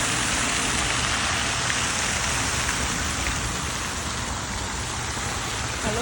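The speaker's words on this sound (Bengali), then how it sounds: "খুবই ভালো লাগতেছে পানির শব্দ" Flowing water in a park pond rushes in a steady, dense wash that stays loud and even throughout, with no pauses or voices.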